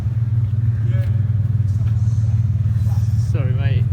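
A classic BMW car found in a London barn idles with a steady low rumble after starting up, while several people talk excitedly over it.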